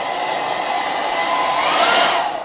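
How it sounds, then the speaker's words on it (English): A hairdryer on a low setting blows steadily and close up over fresh filler in a patched plasterboard wall, making a continuous airy whir that swells slightly near the end. "you could use a hairdryer on a low setting"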